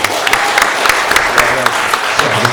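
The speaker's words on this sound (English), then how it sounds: "Can we give all them a round of applause as well?" A festival audience at a film screening Q&A gives a round of applause, a moderate spread of clapping with sharper individual claps standing out, fairly close and even throughout.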